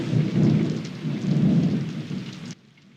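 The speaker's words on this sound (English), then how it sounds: "Lightning crashes." Heavy rain pours with a deep rolling thunder crash building loudly underneath for about two and a half seconds, then cutting off abruptly into near quiet.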